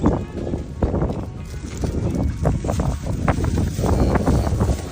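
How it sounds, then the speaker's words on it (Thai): Wind buffets a microphone steadily, a rough blustery rumble with scattered thuds and faint movement beneath it, no clear speech. "วันนี้ลมดีมากเลยอะ"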